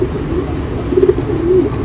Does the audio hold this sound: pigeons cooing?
yes